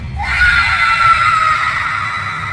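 A man lets out a long, loud, strained scream for help in a morgue during a dramatized horror story, held steadily for over two seconds against low background rumble.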